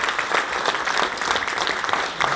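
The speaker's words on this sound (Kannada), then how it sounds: "ಜೋರ ಚಪ್ಪಾಳೆ ಕಿರಣ್ ಸರ್" Loud, dense applause from an audience at a motivational business meeting, cheering on Kiran sir, a steady wash of many hands clapping together throughout with a slight crowd murmur underneath.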